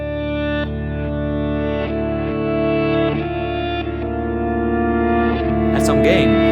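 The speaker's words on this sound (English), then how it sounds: "So now I can perfectly add some reverb to this by just selecting this reverb pedal." An electric guitar played through a pedalboard with a reverb pedal engaged rings out in sustained strummed chords, each decaying into a lingering wash, with a brief higher flourish near the end.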